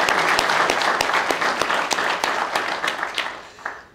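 A crowd claps at a trooper award ceremony, a dense burst of applause with sharp individual claps standing out, fading toward the end.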